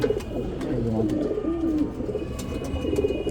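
Female pigeon cooing on a rooftop loft among other birds, low repeated coos close by with faint chirps and a brief voice underneath.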